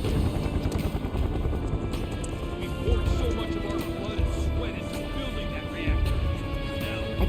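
Helicopters whir in Final Fantasy VII Remake's Sector 5, a steady rotor thrum under game sounds and heavy thumps, while a person talks over it.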